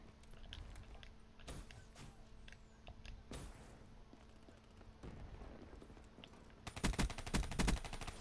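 Gunfire in Black Ops 3 sounds as scattered sharp cracks, some distant, over a low game ambience, closing with a louder, rapid burst of shots near the end.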